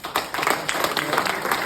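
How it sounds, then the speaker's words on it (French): An audience at a building trade fair on airtight construction applauds a panel, a short burst of many hands clapping quickly and unevenly, moderately loud and close, with no voices over it. "On peut les applaudir."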